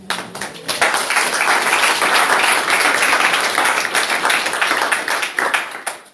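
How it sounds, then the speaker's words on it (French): Congregation applause during a French-language church service, beginning with a few scattered claps and quickly swelling into loud, sustained clapping from many hands before tapering near the end. "Applaudissons pour le Seigneur."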